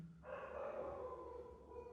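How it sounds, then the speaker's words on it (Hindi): Dogs barking somewhere in the background, a steady, moderately faint layered sound with sustained tonal bands, heard alone without talk. "जो कुत्ते भी भौंक रहे हैं"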